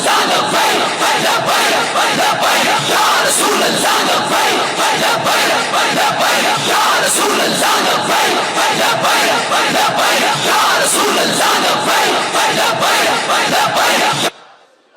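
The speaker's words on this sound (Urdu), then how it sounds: "ہر طرف لبیک و تاجدار ختم نبوت زندہ باد کے نعرے" A large crowd at a religious gathering chants slogans in unison, loud and continuous roaring voices with rhythmic surges, filling the space for about fourteen seconds before cutting off abruptly.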